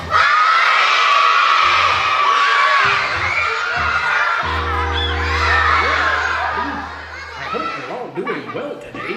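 Children in a fire safety school assembly shout together in a loud, sustained crowd yell that fills a large room, then fades into scattered laughter and chatter.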